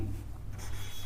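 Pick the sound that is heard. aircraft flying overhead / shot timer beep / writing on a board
writing on a board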